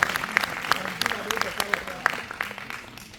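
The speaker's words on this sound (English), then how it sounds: "Applause to God Almighty." Scattered clapping from a church congregation, uneven bursts of claps spread across a few seconds while a voice speaks over them.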